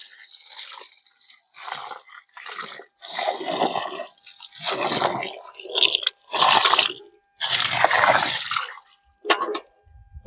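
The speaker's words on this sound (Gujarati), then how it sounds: "પછી આપણે એક ડોલ જેટલું પાણી નાખી દેવાનું છે" A bucket of water poured into an earthing pit packed with salt and charcoal, heard as a series of splashy, gurgling bursts with short gaps between them, fairly close.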